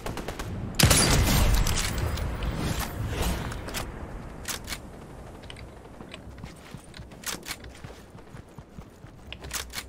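Gunfire bursts in the video game Fortnite, a dense volley near the start followed by scattered sharp shots and footstep-like clatter, fading to sporadic distant pops.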